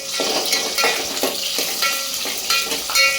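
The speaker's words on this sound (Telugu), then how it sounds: "ఇప్పుడు మిర్చి వేస్తున్నాను. ఒకసారి కలుపుకుందాం." Green chillies and curry leaves fry in hot oil for a crab curry, sizzling steadily up close while a utensil stirs and scrapes the pan in repeated strokes.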